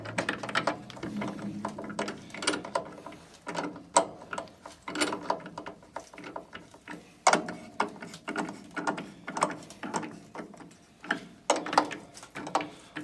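An ice cream machine's parts are tightened with a locking handle, giving a run of ratcheting clicks and metallic mechanical clatter. The clicks come close and fairly loud in uneven bursts.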